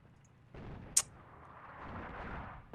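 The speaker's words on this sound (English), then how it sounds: "Artillery there." Artillery fire in the WWII strategy game Attack at Dawn: North Africa, set at El Alamein: a distant, muffled boom with a brief sharp crack, over a steady low rumble.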